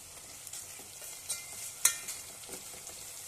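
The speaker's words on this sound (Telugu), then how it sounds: "నెక్స్ట్ పసుపు సాల్ట్ గరం మసాలా పౌడర్ అల్లం వెల్లుల్లి పేస్ట్ ఇవి బాగా ఫ్రై చేసుకోవాలి" Turmeric, salt, garam masala and ginger-garlic paste fry in a pan for potato rice, giving a steady soft sizzle with a few light stirring scrapes and clicks, close and fairly quiet, with no talking.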